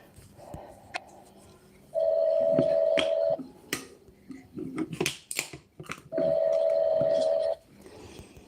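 Two long steady dialing tones, each about a second and a half, separated by a burst of rapid clicks and button beeps.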